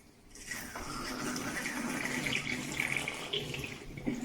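Tap water running steadily into a sink or bath during a home plumbing job, a continuous close hiss and splash that starts after a brief quiet moment and continues without talk.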